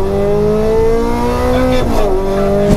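A McLaren 765LT Spider's twin-turbo V8 holds a steady, loud, close drone that shifts pitch partway through as it revs, with a brief tire chirp near the end and no talking over it.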